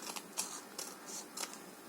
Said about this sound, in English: so I'll probably use my scissors